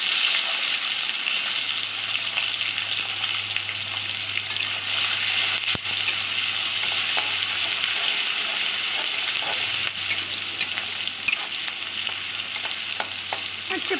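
Onions sizzle and fry steadily in hot oil in a kadai with bay leaf, dried chillies, cardamom and cinnamon for chicken, a loud continuous hiss with occasional stirring clicks and a low hum beneath.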